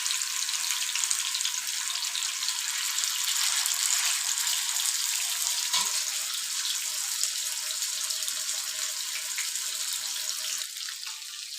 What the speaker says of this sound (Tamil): இது பாருங்கள் மீன் நல்லா ஒரு பக்கம் வெந்து வருது